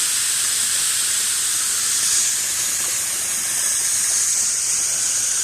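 Water sprays and hisses in a steady, loud, unbroken rush from a garden waterfall valve that has been opened wider, with no voices over it.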